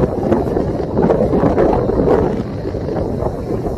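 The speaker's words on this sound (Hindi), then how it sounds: "बहुत तेज हवा है, इतनी ठंडी यख हवा चल रही है कि वीडियो बनाना मुश्किल हो गया है" Strong, cold wind blowing across an open mountain hilltop near a shrine, gusting and buffeting the microphone in loud rumbling surges, with no speech.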